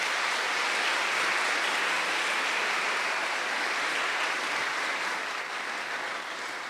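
A church congregation bursts into steady, dense applause during a Catholic Mass homily, a broad wash of many hands clapping continuously at close range, sustained and even throughout.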